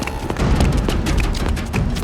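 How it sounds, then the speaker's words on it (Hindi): Several sharp gunshots crack out at irregular intervals over a dense, noisy background in a crime drama. "गोली चलने की आवाज कहाँ से?"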